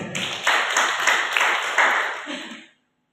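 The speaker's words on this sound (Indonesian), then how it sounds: "Tepuk tangan buat dia." A church audience claps and applauds through most of the stretch, a steady dense patter of many hands close by that stops abruptly near the end.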